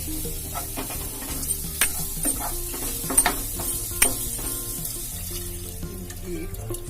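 Maggi noodles sizzle and fry in a pan with chaat masala while a spoon stirs and scrapes, sharp clicks and knocks over a steady crackling hiss.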